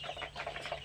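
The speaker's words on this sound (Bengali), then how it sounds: "মুরগিটা হচ্ছে গলা কাটা, সুন্দর আছে মুরগিটা" A naked-neck chicken on a poultry farm gives a quick run of soft clucks that are close by and faint, lasting under a second.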